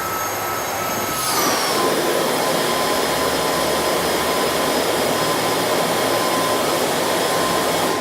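PIEPS JetForce avalanche airbag pack inflating with its electric jet fan, a loud steady whirring roar that spins up within a second and holds constant, close and alone.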